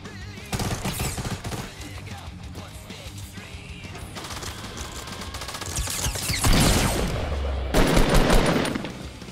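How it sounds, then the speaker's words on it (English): Gunfire in the video game Fortnite, including a shotgun, crackles through a match as a burst of rapid shots and several heavier blasts, fairly loud against a busy game background. "Is that a shotgun from that far?"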